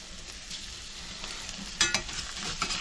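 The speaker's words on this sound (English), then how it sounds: "straight edge spatula, so I get a nice clean lift on these burgers" Burgers sizzle steadily in a cast iron skillet, a close, continuous frying hiss, then a couple of sharp scraping clicks as a straight edge spatula lifts them.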